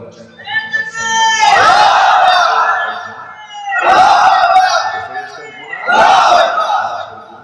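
A large crowd at an Islamic sermon gathering shouts a slogan in three loud unison bursts, each rising sharply and trailing off, with short pauses between the chants.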